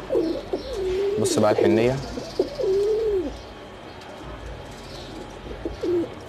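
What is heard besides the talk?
pigeons cooing on a balcony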